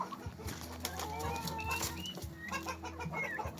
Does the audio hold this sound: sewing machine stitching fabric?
no